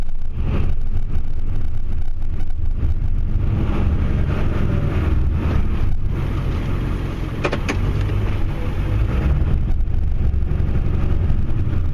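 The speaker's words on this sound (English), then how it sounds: "You can tell it's deep when you can hear the truck working" A Ford F-250 Super Duty 7.3 Powerstroke pickup engine labors steadily plowing through deep snow, a continuous low rumble with grinding noise, close and loud throughout.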